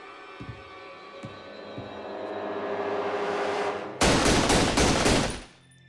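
Gunshots in a dramatised shooting: a rising tense drone with a few soft knocks leads into a sudden close, loud burst of several rapid shots that cuts off sharply, with no speech.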